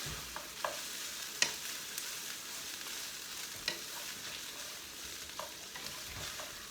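Sliced pork chop pieces fry and brown in a pan with a soft, steady sizzle, broken by a few faint clicks of stirring, with no voices.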